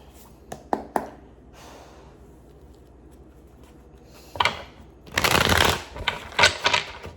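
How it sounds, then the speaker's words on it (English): Tarot cards are shuffled close up: a few crisp taps, then bursts of riffling and flicking that grow louder toward the end. "We are going to shuffle up our cards"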